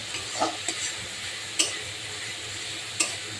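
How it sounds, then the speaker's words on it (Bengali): Spice paste with salt and chilli powder stir-fried in oil for a chicken curry, a steady close sizzle broken by a few sharp scraping stirs of the spoon against the pan, with no voices. "এবার মশলাটাকে সুন্দর করে কষিয়ে নেব।"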